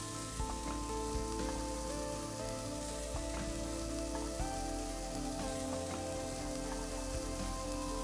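Green peas hit a sizzling pan of sweated onions, giving a dense, even crackle of frying that runs steadily throughout over a faint tonal hum.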